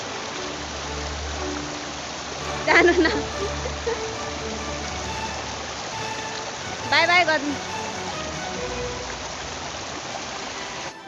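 Steady broadband rush of a river stream flowing beside a road on a journey through hilly country in eastern Nepal, continuous and fairly loud, with two brief bursts of speech breaking over it.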